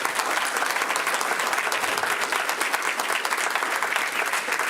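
Sustained audience applause for a departing city council member at a council meeting, steady dense clapping filling the room throughout without pause.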